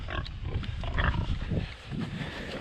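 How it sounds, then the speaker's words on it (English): Pigs on a farm, among them an old potbelly pig and young gilts, grunt and snuffle close by in an irregular, continuous run of low rough sounds. No one speaks over them. "There's the pigs."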